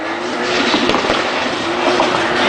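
A Nissan R32 Driftworks drift car slides through a Super Pro qualifying run at Lydden Hill, its tires squealing and engine roaring loudly at close range with no one speaking.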